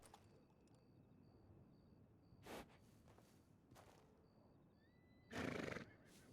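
A horse in Red Dead Redemption 2 whinnies twice over a quiet in-game background, a shorter neigh first, then a louder, longer whinny near the end, with faint hoof and movement sounds between.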